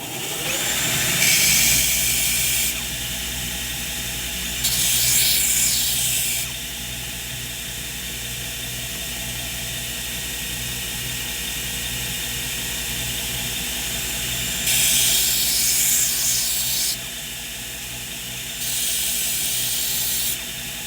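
A metal pin for an axe has one end beveled on a powered grinder, which hums steadily with a motor drone while harsh grinding bursts come and go in several separate passes.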